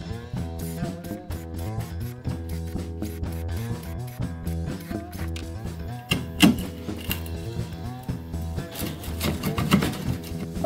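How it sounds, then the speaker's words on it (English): A drill bores a series of holes in wood for a wire channel on an electric diddley bow, its motor whining in repeated bursts with gritty cutting and clicking, fairly quiet and close. "So I'm going to do a series of holes and then finish it off with a chisel."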